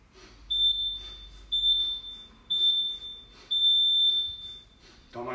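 Workout interval timer during a home HIIT session, sounding four sustained high-pitched electronic beeps in a steady rhythm, each about half a second to a second long, fairly loud and close.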